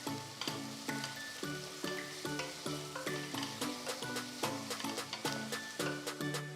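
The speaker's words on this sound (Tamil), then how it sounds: "நெக்ஸ்ட் 1 டீஸ்பூன் இஞ்சி பூண்டு விழுது சேர்த்து வதக்குங்க." Ginger garlic paste frying in a pan for a Tamil tomato recipe gives a soft, continuous sizzle at low level, partly buried under rhythmic background music with regular beats.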